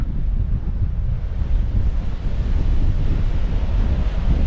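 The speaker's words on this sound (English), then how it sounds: "We are still pretty protected now, although the wind is very strong." Strong storm wind buffeting the microphone over crashing sea waves on the rocky coast at Xghajra, Malta, a loud continuous roar with surging low rumble throughout and no speech.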